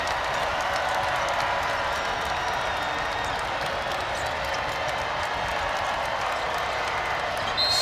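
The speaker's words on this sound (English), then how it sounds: "The crowd gets a little louder here at Hilton." Basketball crowd at Hilton Coliseum during a women's college game between Kansas State and Iowa State, a steady broad roar of many voices filling the arena, continuous and fairly loud with no break.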